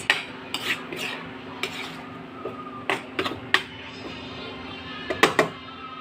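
Utensil scraping and clinking in a pan as sautéed chayote with ground meat is stirred, with irregular sharp knocks over a steady low sizzle, fairly close.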